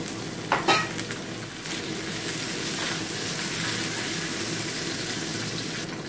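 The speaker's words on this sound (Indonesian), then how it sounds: "Saya tumis saja sekalian." Ginger and spring onion stalks sauté in a pan for fish in broth, a steady sizzle running throughout with a few sharp stirring clatters near the start.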